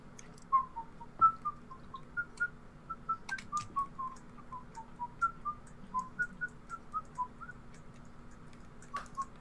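Someone whistles a tune from Songs of the South in a livestream setting, a string of short, clear melodic notes rising and falling at a moderate pace, fairly close and alone over a low steady hum.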